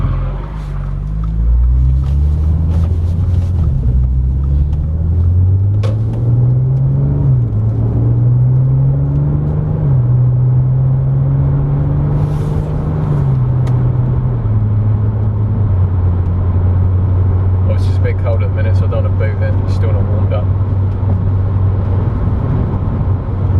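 A recovered Audi S4 drives on an open road, its engine droning loudly from inside the cabin, rising in pitch through several gear changes as it accelerates, then settling into a steady cruising hum, with no one speaking.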